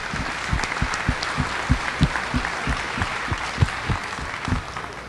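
An audience at the Missouri State Fair Sale of Champions gives a steady round of applause, dense clapping from a crowd at moderate distance with no talking.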